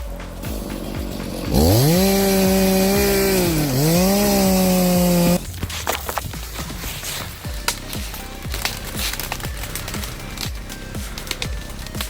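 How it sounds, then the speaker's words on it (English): A small chainsaw cuts into a tree, its loud, steady engine whine rising and dipping as it bites for a few seconds, then giving way to rough crackling and scraping of wood. "And we cut it with this little chainsaw right here."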